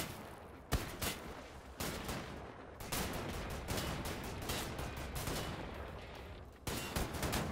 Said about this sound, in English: Shotguns blazing, let's go.